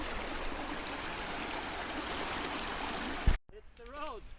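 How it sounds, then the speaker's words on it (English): Broadband rushing water of a river in the jungle at Koh Chang rolls steadily for several seconds, then cuts off abruptly to quieter background with a faint voice-like tone. "reality says there's a river here. Reality says we have to cross the river."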